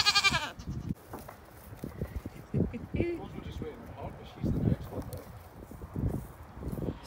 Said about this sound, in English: this is the two billy goats and they stink.